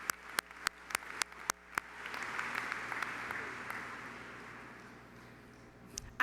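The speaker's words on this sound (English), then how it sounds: "Please give this class a round of applause for their accomplishments." Audience applause at a 2019 high school graduation ceremony: a few sharp single claps open, then a sustained roar of clapping from a large crowd swells and holds, fading slightly toward the end.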